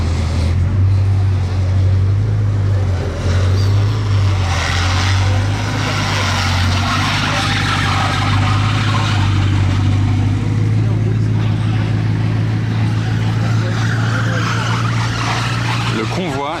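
A convoy of luxury cars, including a Bugatti Chiron, drives past together in Monaco, engines humming and rumbling steadily, with people talking loudly over the traffic noise throughout.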